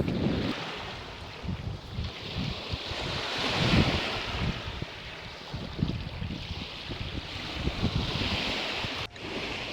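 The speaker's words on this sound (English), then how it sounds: "You can relax and daydream as you listen to the sound of the waves." Ocean waves wash steadily along a beach shoreline, a continuous broadband surf rush with rolling swells, mixed with gusty wind buffeting the microphone; no voices, with a brief bump near the end.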